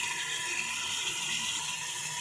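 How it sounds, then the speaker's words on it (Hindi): Water poured steadily from a jug into a pot of kaddu (pumpkin) curry, a continuous close rushing splash with no pauses or talk. "जी अब मैं इसमें डालने लगी हूँ पानी मैं तकरीबन 1 जग इसमें डालूँगी"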